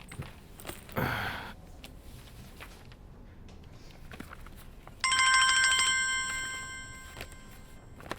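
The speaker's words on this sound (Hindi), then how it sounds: "फोन बज रहा है" A phone ringtone starts partway through, a bright electronic trill repeating steadily and then fading, after a brief rustle earlier.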